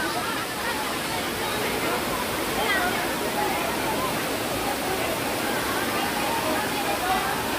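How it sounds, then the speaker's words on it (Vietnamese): A natural stream flows out of a rock cave at Phượng Hoàng cave, Võ Nhai district, Thái Nguyên, as a constant broadband rush of water, steady and moderately loud throughout, with faint crowd murmur in the background. "cái suối nước chảy tự nhiên từ trong hang đá ra"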